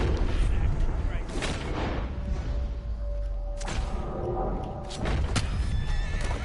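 A horse in the Red Dead Redemption II video game whinnies amid game sounds, with sharp bangs and clattering that suggest gunfire and hooves, loud and busy throughout, with a voice briefly heard.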